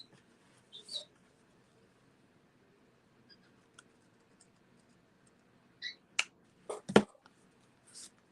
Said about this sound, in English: I'm going to cut my ends with my ribbon scissors.